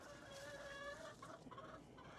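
Hens cluck and call steadily in a backyard chicken coop on a small urban homestead, a moderately close, continuous run of fowl vocalizations with no talking.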